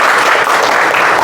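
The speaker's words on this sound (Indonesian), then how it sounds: "Nah, tepuk tangan dulu" A school class applauding during an art and culture lesson: a brief, loud and dense burst of many hands clapping together, close to the listener.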